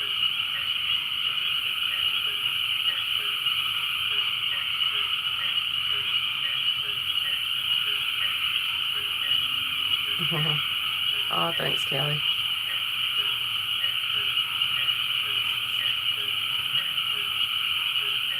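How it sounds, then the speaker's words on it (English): Frogs croak outdoors on a front porch in the evening, a steady chorus with a constant high insect drone, while a voice speaks briefly near the middle. "Those frogs, though."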